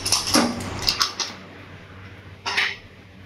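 A pressure cooker of boiled potatoes is opened with a few clattering metallic knocks of the lid and pot, then a short scrape a moment later, close and fairly quiet over a low steady hum.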